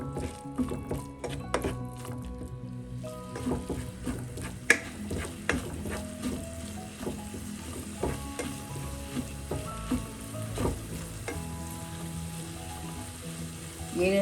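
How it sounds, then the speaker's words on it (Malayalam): Spice powders sizzling in hot oil in a pan for a spinach chicken curry, a quiet, steady fry with faint stirring clicks and scrapes scattered through it. "ഈ പൊടികളെല്ലാം കൂടെ നമുക്ക് ഈ ഓയിലൊന്ന് മൂപ്പിക്കാം"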